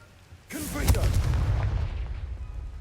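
A Confringo blasting spell bursts in Hogwarts Legacy, a sharp crack at onset followed by a sustained rumbling, crackling blast that lingers loudly, with a voice speaking briefly over it.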